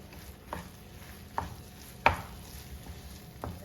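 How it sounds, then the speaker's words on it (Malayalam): Cooked vada pav potato filling mashed with a ladle in a pan, giving a few sharp, separate knocks and scrapes against the metal at uneven intervals, close and fairly quiet over a faint background hum. "നമ്മുടെ ആ തവി വെച്ച് ഒന്ന് ഉടച്ചു കൊടുത്താൽ മതി."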